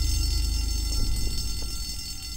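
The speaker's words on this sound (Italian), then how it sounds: "Non volevo attivare l'allarme." An electronic alarm going off in a VR Backrooms video game, a steady high-pitched ringing tone held throughout over a low hum, with faint thuds and no speech.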